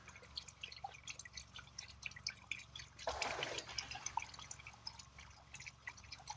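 Motor oil pours through a funnel into the 1.8L engine of a 2013 Toyota Corolla, quiet dripping that swells into a fuller gurgling trickle midway, close and faint with no talking.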